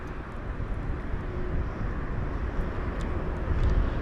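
An Airbus A320neo lands at London Heathrow at dusk, producing a continuous broad jet roar that swells slightly toward the end, heard at a distance without talk.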